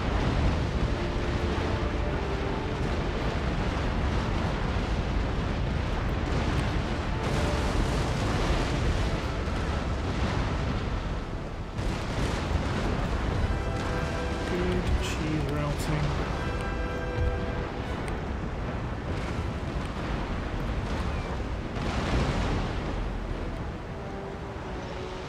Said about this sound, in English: Oh, let's do round shot, fire into.